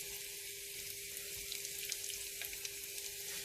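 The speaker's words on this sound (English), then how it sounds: "I will be adding in my chopped onions, and I am going to fry this" Chopped onions frying in a pan for a Thai-style red prawn and chicken curry, a steady soft sizzle with faint crackles and a low constant hum underneath, no talking.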